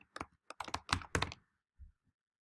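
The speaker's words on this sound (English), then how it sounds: "You click a field, it turns red, so it indicates to you it's selected, so you can simply start typing." Keystrokes on a computer keyboard typing into a form field, a quick burst of close, crisp taps followed by a pause and a couple of softer final clicks.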